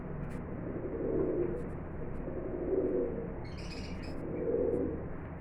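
Pigeons coo in three slow, soft, rolling swells, with faint chirps and a brief flutter against a noisy background.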